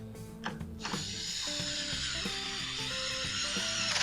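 Screws being driven back into a Mac 3200 chainsaw during a fuel line repair: a steady, close ratcheting mechanical whirr that runs continuously, with no one talking.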